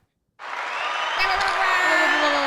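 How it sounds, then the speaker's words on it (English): A group of people clapping together in a room, applause starting abruptly and holding steady and fairly loud, with a few brief voices underneath. "How about the clapping?"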